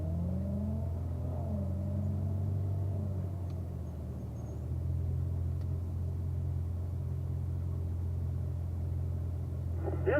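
A Corvette on a track braking exercise course accelerates with a steady engine drone and rumble, the revs rising and falling in the first few seconds and then holding an even, fairly close roar.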